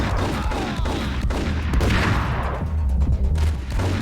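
Gunfire in the video game Max Payne 3, a dense continuous volley of shots heard up close over a rumbling game mix, with no one speaking.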